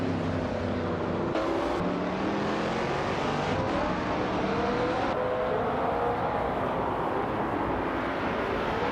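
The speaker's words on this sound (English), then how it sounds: "Her 1966 McLaren Elva Chevrolet is clearly in top form." A 1966 McLaren Elva Chevrolet race car engine roars continuously in a racing game, pitch sweeping up and down through gear changes, loud and close with other cars around.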